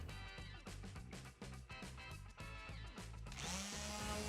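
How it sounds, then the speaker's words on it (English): An electric sander runs over a slick furniture finish in light passes before chalk painting, its whirring motor pulsing rhythmically as it moves against the surface, then rising into a steadier, brighter whine near the end. "So I'm just going to give it a light sanding to make sure that the chalk paint adheres. I'm using an electric sander,"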